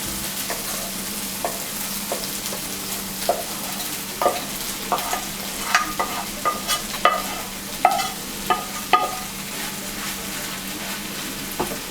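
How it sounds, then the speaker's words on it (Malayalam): Chicken and mushrooms stirred in a frying pan for mushroom chicken roast, a steady sizzle under a spatula scraping in an irregular rhythm, the clicks growing louder and more frequent toward the end, close and without voices. "നമുക്ക് നന്നായിട്ട് മഷ്റൂമിൻ്റെ കൂടെ മിക്സ് ചെയ്യണം."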